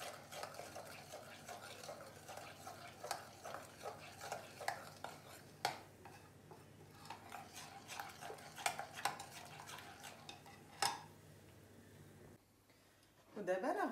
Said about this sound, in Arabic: كنضربوا الماء وهاد العناصر كلها كتجانس لينا بعضها